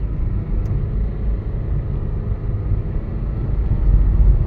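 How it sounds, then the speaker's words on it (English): Inside a 2010 Dodge Caliber on the move, a steady low engine and road rumble drones throughout, with the load swelling slightly near the end as it pulls out of first gear. "Does seem to have a late shift out of first gear."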